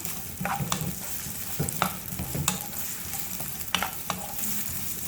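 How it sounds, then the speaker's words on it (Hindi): Onion, garlic and ginger paste fry over a medium flame in a pan with a constant soft sizzle, broken by several sharp scrapes and clinks of a stirring spoon, close and quiet with no talk. "प्याज, लहसुन और अदरक को हमने मीडियम फ्लेम पर हल्का सा फ्राई किया है"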